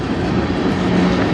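CN freight train M382 passes in Sarnia, Ontario, a short burst of loud, close rolling rumble and wheel noise from the moving railcars.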